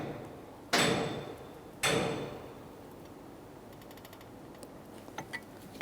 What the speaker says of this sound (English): We're prying up against the caliper and the brake rotor, attempting to push back each of our 2 caliper pistons.